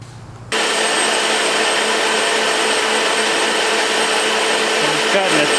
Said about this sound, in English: I'm just cutting a taper for the weld